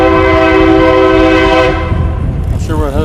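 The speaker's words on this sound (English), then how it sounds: "I guess there's a train, huh?" A train sounds its horn with a loud sustained blast that fades out after about two seconds, over a rumbling passing train and wind noise.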